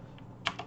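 Two or three quick, soft keystrokes on a computer keyboard as a repository name is typed, faint and close in an otherwise quiet room.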